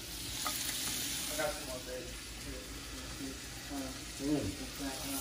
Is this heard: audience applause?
no